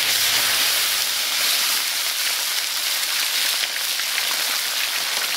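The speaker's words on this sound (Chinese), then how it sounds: "下入鲤鱼煎" Carp fries in hot rapeseed oil with a loud, continuous hiss and spatter, steady and close from start to finish.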